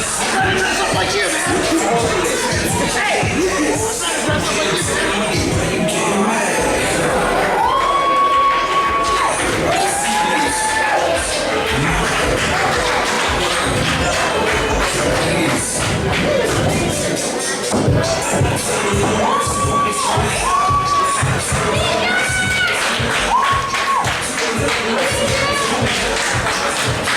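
A crowd at a wrestling event cheers and shouts steadily throughout, loud and dense, with scattered higher voices and whistles rising above the roar and some clapping mixed in.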